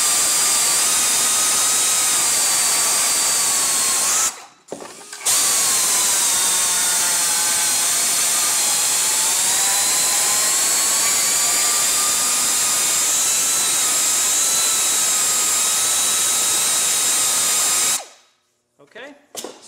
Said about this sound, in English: we have the holes for the bracket done and the holes for the fender bolt